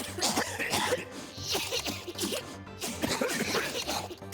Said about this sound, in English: Cough, cough.